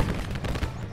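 Cannon fire in the Battle Cry of Freedom video game: a dense, continuous barrage of booming shots and gunfire, loud and close, filling the whole second with rolling low-end blasts.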